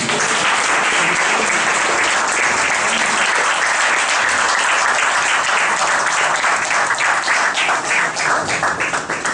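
A business school audience gives a guest speaker a long, dense round of applause, loud and steady throughout with many hands clapping together.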